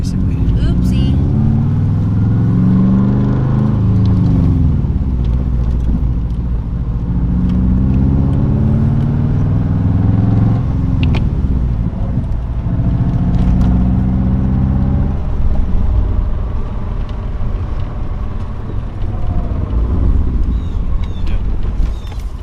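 A race car with a manual gearbox runs up and down through its revs as it shifts down from third to second to first, a loud rumbling engine with voices talking over it.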